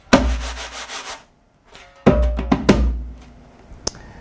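Soft drum-brush strokes and swishes with a few light taps, the brush worn in a hand sleeve, played in a loose rhythm with a brief pause midway, close and fairly quiet.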